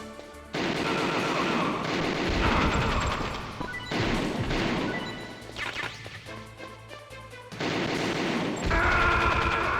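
Loud bursts of rapid gunfire from Metal Gear Solid come in several long volleys with brief gaps between them, close and harsh, with crashing impacts mixed in and no talking over them.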